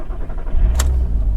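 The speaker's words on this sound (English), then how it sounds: "we're just going to put our foot on the brake and start the engine" A Mk1 Audi TT 3.2 V6 with DSG gearbox fires up, a low engine rumble rising abruptly with a sharp click as it catches, close by.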